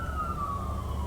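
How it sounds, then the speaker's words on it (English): Emergency vehicle siren wailing nearby with one steady, slowly falling tone, loud and continuous above a low rumble of traffic, with no talk. "This is the bunch of sirens."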